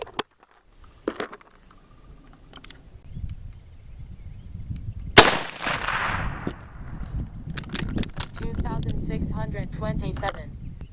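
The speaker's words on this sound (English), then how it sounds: "we're going to give these a shot, and hopefully I can shoot a halfway decent group" A single sharp rifle shot from an M96 Swedish Mauser loaded with Winchester StaBall 6.5 handloads cracks loudly at a range, followed by a ringing echo and then people talking.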